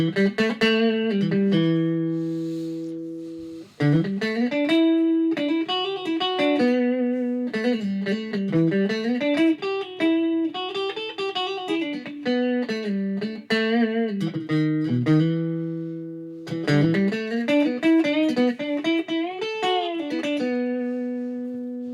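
Distorted electric guitar, a Kracken, plays a melodic lead line with sustained, bending notes and short pauses, loud and alone.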